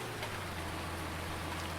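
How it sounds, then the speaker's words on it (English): Steady rainfall in the Farming Simulator 19 farming game with the Seasons mod, a quiet, even hiss of drops throughout with a low constant hum beneath and no talking. "Now, finally getting some rain."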